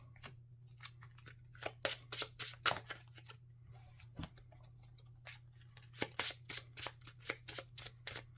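Playing cards shuffled into a deck during a tabletop card game, a quiet series of crisp riffling snaps and flicks in uneven bursts over a low steady hum.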